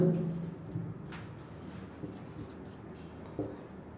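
Faint scratching of writing on a board during a geometry lesson on triangles, soft strokes and taps against a quiet room, with a low voice briefly audible at the start.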